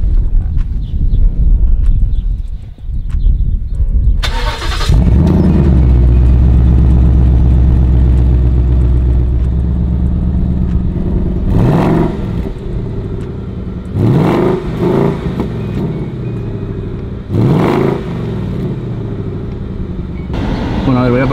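A 2020 Ford Mustang GT fires up with a sudden loud roar, settles into a deep idle, then gives several sharp revving bursts, close and dominant throughout.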